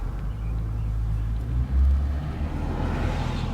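A car driving and pulling into a Discount Tire shop, heard as a steady low engine and road rumble from inside the vehicle with a brief deeper swell partway through.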